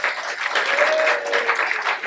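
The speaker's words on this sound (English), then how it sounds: "Keep the applause going" A live audience claps steadily as a guest, Grahame from Cult Edge, is brought up on stage, loud continuous applause with a few whoops on top.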